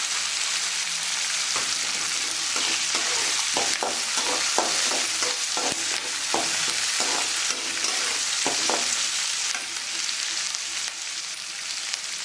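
Green chillies and curry leaves crackle and sizzle in hot oil, with a steady loud hiss and scattered sharp pops and stirring clicks throughout, close up and without talk.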